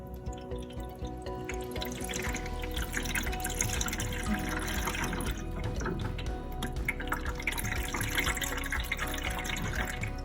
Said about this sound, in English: Plus the water, you can see, is draining down.